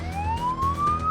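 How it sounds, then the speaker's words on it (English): An emergency vehicle siren wails with a single rising tone, loud and close, as a paramedic crew responds lights and sirens to a suspected stroke call. "Paramedic partners Erica and Taz are now being sent lights and sirens."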